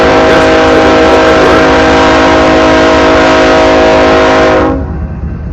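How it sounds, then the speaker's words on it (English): A freight train rumbles past up close in Pillager, its cars grinding and rolling in a loud, continuous roar with a steady metallic drone, then cuts off abruptly near the end, leaving a fainter background rumble. "here's this rail train I find in Pillager"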